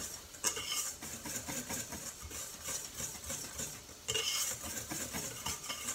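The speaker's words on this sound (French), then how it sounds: "Je vais tout d'abord tamiser la farine et la maïzena ensemble" Flour and cornstarch sifted together through a kitchen sieve, a steady close scratchy rustle with light rhythmic tapping and rattling, continuous and without speech.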